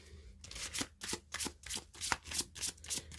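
Tarot cards being shuffled by hand in a close, quiet room, a rapid series of crisp riffling bursts in a steady rhythm with short gaps between them.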